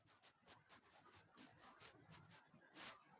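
Pen writing a maths solution by hand on paper, a faint rapid series of short scratchy strokes at close range, with no voices.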